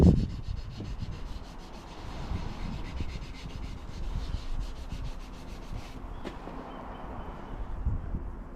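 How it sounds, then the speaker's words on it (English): Polishing compound rubbed by hand onto a Rover 75 body panel, a steady close scrubbing rasp with repeated back-and-forth strokes, alone without talk. "At least we can put a bit of compound on it."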